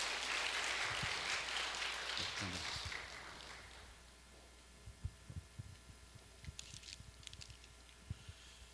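A church congregation at a Sunday service applauds after a baptism vow, a brief wash of clapping that fades within a few seconds into a quiet hall with scattered soft thumps.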